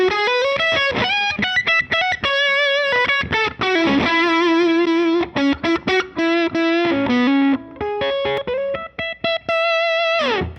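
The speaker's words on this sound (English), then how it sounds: "on the 1 mega ohm setting, the amp seems to jump into overdrive a little easier" An electric guitar runs through a Line 6 Helix amp model on a 1 megaohm input setting, playing choppy overdriven chords and sustained notes with gritty distortion, loud and close, with short pauses between phrases.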